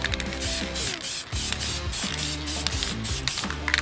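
A spray gun dusts base coat color over a rounded edge of a car bumper during a DIY scratch and scuff repair, giving a continuous close hiss with short bursts and pauses.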